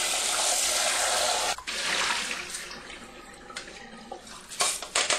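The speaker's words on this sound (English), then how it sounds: "when you're happy that you've washed the rice, you're really doing it to try and get the water as clear as possible" Rice being rinsed in water in a bowl at a kitchen sink to wash off the starch, with steady running water and sloshing, then softer swirling and a few clinks of grains and dish.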